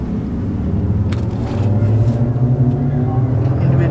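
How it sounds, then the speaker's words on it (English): A Toyota 4AGE engine with individual throttle bodies and aggressive extractors in a time-attack track car, running with a loud, steady low rumble close by. "4AGE engine."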